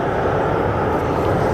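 A United Airlines jet at O'Hare airport gives a loud, steady engine roar that continues throughout without pause.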